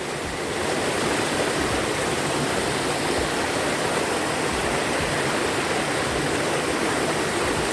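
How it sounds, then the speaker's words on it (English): A small waterfall on a river in Jamaica pours steadily, a dense, even rush of falling water heard up close and loud with no pauses. "To the fall, the little waterfall."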